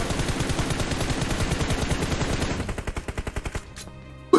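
A Vector submachine gun fires in PUBG Mobile. It lets out one long, loud burst of rapid, evenly spaced shots that thin toward the end and stop, with no talk.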